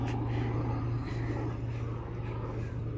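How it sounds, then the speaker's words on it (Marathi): A helicopter circles over Vihar Lake near Powai, Mumbai, a steady droning rotor and engine hum heard at moderate distance, continuous throughout with no talk over it. "हेलिकॉप्टर आलं"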